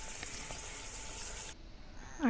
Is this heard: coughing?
no